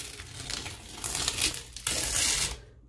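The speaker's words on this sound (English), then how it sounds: "And I'm just going to peel it up." Sticker stencil peeled off an acrylic-painted Easter rabbit from a Peiloff acrylic painting kit, a close crinkling, tearing rustle that builds in two surges before stopping.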